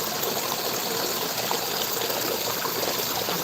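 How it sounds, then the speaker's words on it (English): Water swirls in a spiraling vortex and spills down into a fish pond, a dense, steady rush and gush of flow with a constant hiss, close and loud with no letup. "we're creating a really good vortex of water going on down here"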